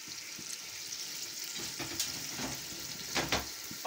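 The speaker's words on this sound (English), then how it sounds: "and allow it to keep boiling." Omuguo stew with water and Maggi seasoning boiling in a pot, giving a steady bubbling hiss with a few soft pops and stirring clinks throughout.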